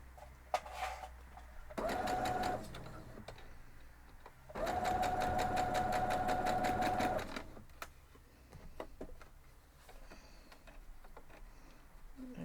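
Sewing machine stitching a quilt block strip in two bursts, a short run then a longer steady one of rapid, even mechanical chatter, with quiet pauses and faint handling noises between.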